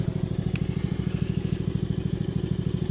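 A mud mower's engine idles with a fast, even thumping rhythm, steady and close throughout, with no voices over it.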